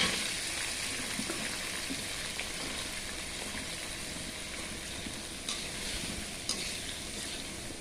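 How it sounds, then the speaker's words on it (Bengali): Spice paste with boiled potato and eggplant is stirred in a hot pan, making a steady, dense sizzle with a few faint scraping knocks and no voices. "এইবার মশলাটা একটুখানি নেড়ে চেড়ে তার মধ্যে দিয়ে দেব ফুটে রাখা আলু বেগুন"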